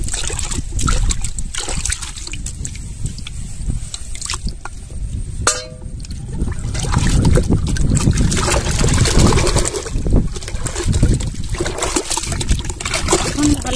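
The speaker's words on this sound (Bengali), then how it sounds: "বালতিতে ফ্রেশ জল নিয়েছি, ফ্রেশ জলে আমি চুন গুলিয়ে দেব" Slaked lime is stirred into fresh water in a bucket, with close sloshing, splashing and trickling that continues steadily while a person talks over it.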